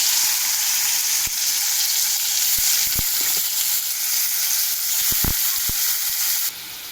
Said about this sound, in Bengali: তেলটা গরম হয়ে গেছে, শাপলাগুলো ঢেলে দিলাম